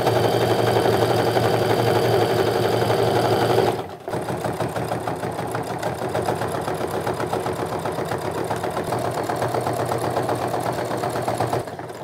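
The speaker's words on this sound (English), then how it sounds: "I'm just gonna sew around the entire top of the bag." A sewing machine runs steadily while stitching around the top opening of a tote bag, a loud, continuous mechanical whir with a brief pause near the start before it resumes.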